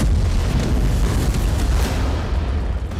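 Missile blasts over Tehran during wartime strikes, a continuous loud deep rumbling roar of explosions with booming low-end energy throughout, no voices.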